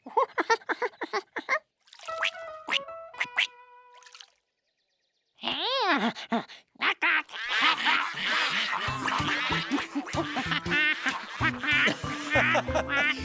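Cartoon ducks quacking in a lively chorus, rapid overlapping calls close by, with a brief pause before splashing water and more quacks join in.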